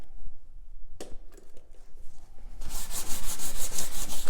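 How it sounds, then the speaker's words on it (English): A wooden coffee table is hand-sanded to smooth a divot. After a quieter start with a single knock, steady rhythmic scrubbing strokes build up close by. "I'm going to sand that a little bit more just to kind of smooth that out"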